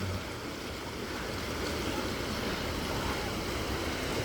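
The strong current of the Pattani River rushes through Pattani town toward the Gulf of Thailand, a dense, steady roar of flowing water with a windy edge and no voices.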